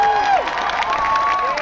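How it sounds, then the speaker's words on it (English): Rally crowd at an equal marriage rights gathering in Sydney cheering and whooping continuously, a dense wall of voices and shouts from a large outdoor gathering, with whistles cutting through. "Now you can cheer"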